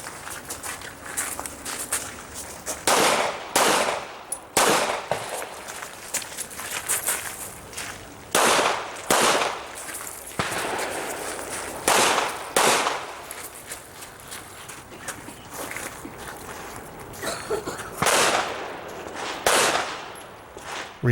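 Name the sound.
pistol gunfire from shooters at an IDPA match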